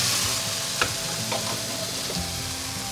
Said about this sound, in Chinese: 大火快炒，大概炒了2分钟左右